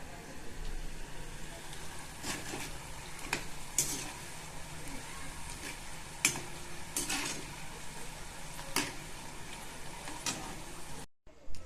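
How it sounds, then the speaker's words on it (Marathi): Masala shankarpali frying in hot oil, a continuous close sizzle broken by sharp ticks and clinks from a utensil against the pan. "चला आता आपण शंकरपाळ्या तळून घेऊया"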